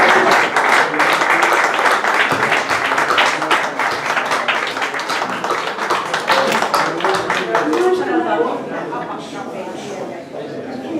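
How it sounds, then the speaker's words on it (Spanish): An audience at a poetry reading breaks into loud, dense applause that holds strong for several seconds, then thins into softer scattered clapping with murmuring voices. "vamos a darle un fuerte aplauso"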